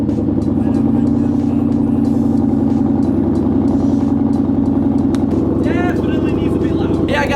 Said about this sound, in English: sorry I had to talk over the exhaust